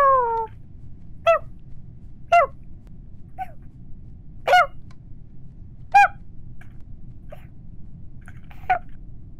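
A player in a Minecraft version of Among Us imitates a cat with his voice, giving a string of short meows and squeaks, about eight of them, spaced irregularly against quiet background noise.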